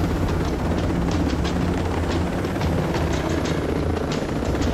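In Ghost Recon Breakpoint, a helicopter flies close by with steady, heavy rotor chop and a deep engine rumble, loud and unbroken for the whole stretch.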